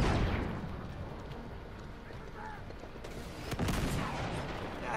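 Gunfire and battle noise in the video game Uncharted 2: Among Thieves, a dense, steady wash of shots and blasts with a louder burst partway through, under faint talk.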